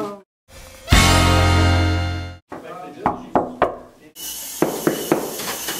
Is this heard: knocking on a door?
yes